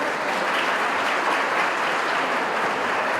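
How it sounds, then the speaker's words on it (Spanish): A church audience breaks into dense, steady applause for the visitors from Monterrey, many hands clapping evenly throughout at a loud, constant level with no voices standing out. "Vamos a darles un aplauso a los de Monterrey"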